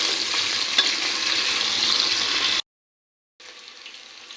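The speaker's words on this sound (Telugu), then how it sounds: "పచ్చిమిరపకాయలు, ఉల్లిపాయలు కూడా వేసుకుంటున్నాను. నేను మంచిగా ఫ్రై చేసుకోవాలండి." Green chillies and onions fry in a pan for tomato rice, giving a loud, steady sizzle and crackle that cuts out briefly, then returns a little softer.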